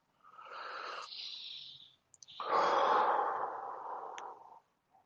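A person takes deep breaths during a stretching exercise. A long, airy inhale is followed by a pause, then a heavy, sighing exhale, close and clear against near silence.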